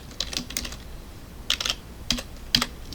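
Computer keyboard typing, close and fairly quiet, comes in short bursts of quick clicking keystrokes separated by brief pauses.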